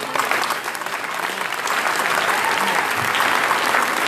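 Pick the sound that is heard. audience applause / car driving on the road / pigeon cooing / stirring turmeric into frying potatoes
audience applause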